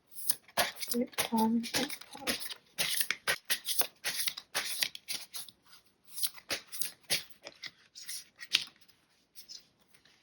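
Quantum Oracle cards are shuffled with rapid, papery riffling in repeated bursts separated by short gaps, close and crisp, while a voice speaks briefly early on.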